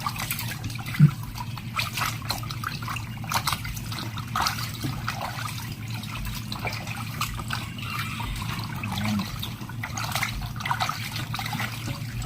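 Water steadily trickling and dripping off freshly washed chicken necks as they drain, a soft continuous patter lasting several seconds with one small clink near the start and no speech.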